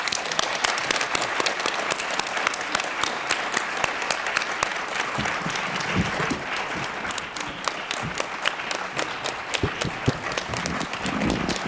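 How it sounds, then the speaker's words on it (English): An audience applauds Dr. Flam at the close of a distinguished scholar session, steady sustained clapping from many hands throughout, moderately distant and even in level, with no talking over it. "let's give one more round of applause for Dr."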